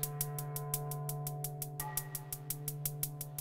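Steady hi-hat ticks in even eighth notes over a sustained tone, with alternating notes noticeably softer, giving a light swinging pulse.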